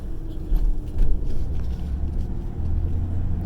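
A manual Ford Ranger pulls away uphill, its engine rumbling low and rising under load as the clutch is released, a steady close drone inside the cab.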